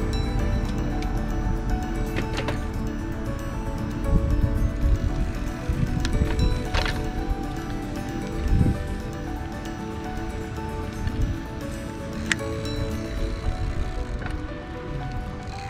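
A CCM Krossport bicycle with a phone mount rolls along, giving a steady broadband rumble of tyres and chain with occasional rattles and bumps, moderately loud and continuous throughout, with no speech.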